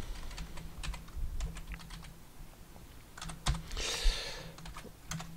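Code being typed on a computer keyboard, quick irregular bursts of close key clicks with short pauses between runs, no voices.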